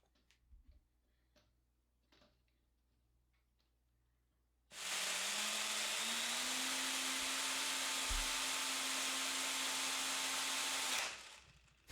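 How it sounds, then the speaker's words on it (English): After a few quiet ticks and taps, a power drill driving a spade bit into a 3D-printed gearbox launcher whirs loudly and steadily for several seconds, then abruptly stops. "It is designed to use a spade drill bit connected to a power drill to power the launcher"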